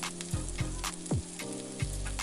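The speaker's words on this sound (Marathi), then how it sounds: "आता आपण या मसाल्यांना छानपैकी तेल सुटेपर्यंत तळून घेणार आहोत." Spice masala sizzling in hot oil with onions in a pan for sev tomato curry, a steady close crackle with several soft stirring scrapes recurring every half second or so.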